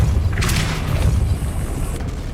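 A Depulso spell cast in the Hogwarts Legacy video game lands as a single loud, close booming blast with a brief whooshing burst, set over a dense low rumble.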